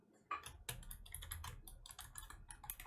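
Password being typed on a computer keyboard during a Windows 11 install in VirtualBox: a quick, close burst of crisp key clicks in uneven rhythm, alone and fairly quiet.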